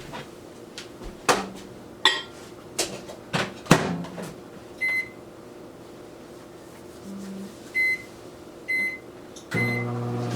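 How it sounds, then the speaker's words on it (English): A microwave oven hums steadily while melting butter, a few clicks and clunks sounding early on, followed by short beeps near the end. "I'm going to pop it in my microwave and melt this."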